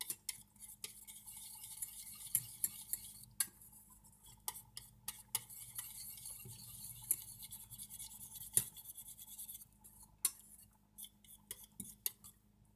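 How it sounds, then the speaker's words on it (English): Milk and flour are stirred in a pot to smooth out lumps for a white sauce. A utensil scrapes and taps against the pot in soft, repeated strokes, fairly quiet and close, with no talking. "We have to stir it so that all these lumps melt down into the milk"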